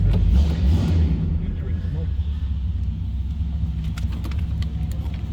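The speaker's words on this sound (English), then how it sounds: "with a 390 underneath the hood, we should have a little rumble coming out of this thing" Low, steady exhaust rumble from a 1965 Mercury Monterey convertible with a 390 V8, close and continuous throughout, with a heavier surge at the very start and faint sounds of people nearby.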